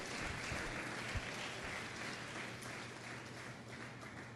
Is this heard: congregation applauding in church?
yes